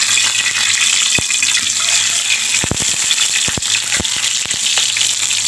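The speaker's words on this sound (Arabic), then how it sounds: "احنا دلوقتي هنقلي البيض بقى في السمنة" Eggs fry in hot ghee with a loud, dense sizzle and hiss, broken by sharp spitting pops and crackles scattered through the sound, with no voices.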